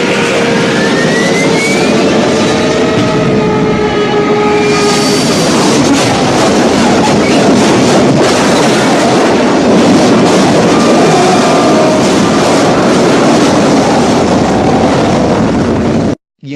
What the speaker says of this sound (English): It seems to be flying awfully close to us. It's headed straight for a house.